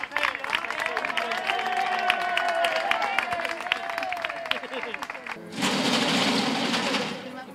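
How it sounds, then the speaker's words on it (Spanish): A crowd on a Spanish television broadcast breaks into dense, loud applause for a man named Pepe, rising suddenly after lively talk and excited voices. "¡Un aplauso para Pepe!"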